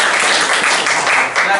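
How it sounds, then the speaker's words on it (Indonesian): A classroom full of students clapping together, a dense, steady wash of applause lasting a short moment, loud and close. "Kita berikan aplaus dulu"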